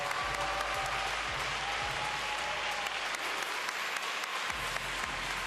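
Steady, dense applause fills the hall at the women's free skating event of the 2022 ISU Four Continents Figure Skating Championships in Tallinn, sustained and full throughout with no voices standing out.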